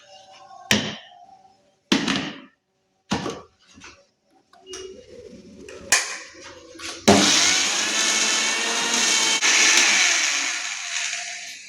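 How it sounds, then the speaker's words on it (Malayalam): A kitchen mixer grinder blends a drained mixture until frothy: a few short separate bursts and clatters come first, then the motor settles into a loud, steady whirring roar for the last several seconds. "ഇതിന് ശേഷം ഇതിനെ മിക്സിയിൽ വെച്ച് നന്നായിട്ട് അടിച്ചെടുക്കണം"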